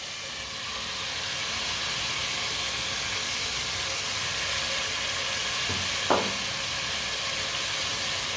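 Chopped spinach is stirred into prepared masala for Punjabi-style shalgam (turnip) curry, giving a steady, even sizzle and hiss of cooking with a brief spoon scrape near the middle, and no talk.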